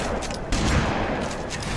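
Rapid volley of shotgun blasts from the Halo video game, dense overlapping booming reports in quick succession with a brief louder burst midway, heard fairly faint.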